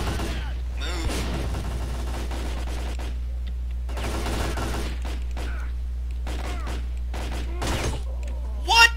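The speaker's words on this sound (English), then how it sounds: "it's time to shoot the hell out of these guys" Rapid gunfire from the game Stalker: Call of Pripyat, repeated sharp bursts and single shots over a constant low hum, moderately loud, with a few spoken words between volleys.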